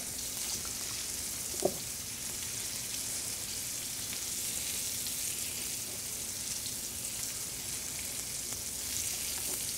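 Habanero wing sauce with butter, garlic and seasoning sizzles steadily in a hot frying pan while a fork mixes it, a constant close frying hiss with one brief clink near the start and no talking.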